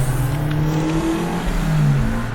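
A loud car engine revs up and accelerates through the gears, heard from inside the cabin of a JDM drift car, its droning pitch climbing steadily as the motor pulls hard.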